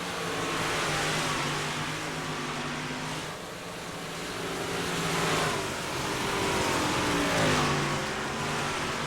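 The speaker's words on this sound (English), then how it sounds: "Hopsmore currently the fastest car out there after setting the fastest lap so far tonight in Heat 1" Dirt race car engine revving at Eldora Speedway, a continuous loud roar rising and falling as cars circle the track, heard alone without talk.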